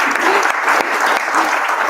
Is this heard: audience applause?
yes